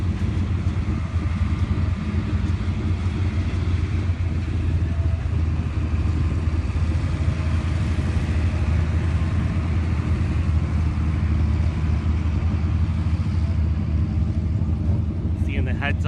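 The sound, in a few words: race cars rolling and idling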